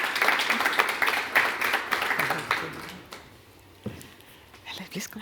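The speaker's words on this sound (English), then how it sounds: "We can applaud them." A conference audience applauds guest speakers coming onto a stage, a loose patter of clapping that fades out midway, with murmured voices nearby.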